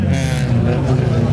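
A modified car's engine revs hard and continuously at close range, the kind set up to shoot exhaust flames; a loud, sustained roar with voices murmuring underneath.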